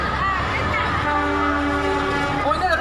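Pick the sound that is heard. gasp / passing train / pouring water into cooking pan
passing train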